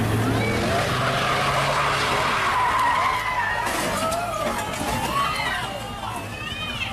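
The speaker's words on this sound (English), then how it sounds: "Due to heavy acceleration, your wheels will spin." A car's driven wheels spinning and skidding under heavy acceleration, with loud continuous tire squeal and engine roar that shifts to sharper chirping squeals midway, fading slightly toward the end.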